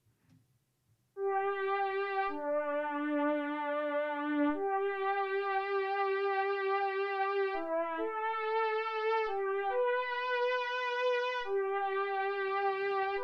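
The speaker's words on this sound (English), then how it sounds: "the Novation is playing this Synclavier 2 preset" A Novation synth plays a Synclavier 2 factory preset as a sequence of sustained, slightly wavering melodic notes stepping up and down, clear and alone after a brief faint start.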